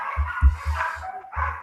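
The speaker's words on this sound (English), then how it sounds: "My dog's barking." A dog barks several times in quick succession nearby, short low woofs repeating through the moment with some voices faintly in the background.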